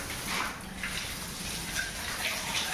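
Water is sprinkled and splashed outdoors on a Gujarati farm, giving a continuous soft gushing spray with gentle swells, nearby and moderately loud, with no voices.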